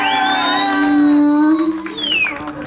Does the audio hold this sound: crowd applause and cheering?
yes